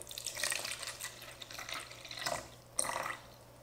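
Distilled water poured for soap making, a quiet trickle and splash in a few short bursts with small drips between them.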